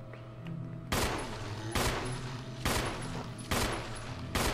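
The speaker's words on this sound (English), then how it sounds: "Waste all this handgun ammo." Handgun shots in Resident Evil Remastered, five loud, sharp reports spaced roughly a second apart over a steady low game ambience, with no talking.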